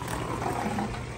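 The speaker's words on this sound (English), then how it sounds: "this is a strong pump" A strong water pump running during an aquarium water change, heard close up as a dense continuous roaring whir with no voices.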